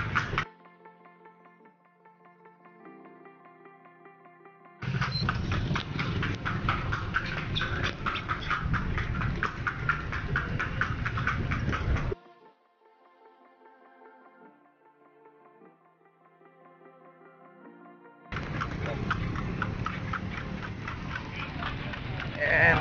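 Horse hooves clip-clop as a kalesa carriage rolls through the streets of Vigan, a steady rhythmic clopping that comes and goes in two louder stretches, with quieter music-like tones in the gaps between.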